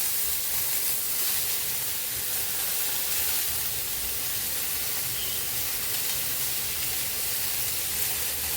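Chopped onion frying with nuts in a hot pan for Afghani soya chaap, a steady, even sizzling hiss that runs unbroken from start to finish, fairly close and with no talking.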